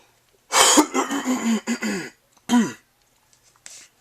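A person coughs and clears their throat in a rough burst, then gives one more short cough and a faint trailing sound, close and alone.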